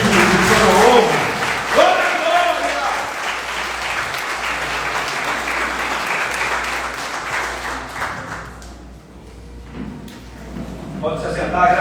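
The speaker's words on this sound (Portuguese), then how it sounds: "Dê o melhor louvor de aplauso a ele, que é digno de toda honra" Church congregation applauding together after a prayer, a steady dense clapping that fills most of the span, thinning near the end as a voice begins speaking.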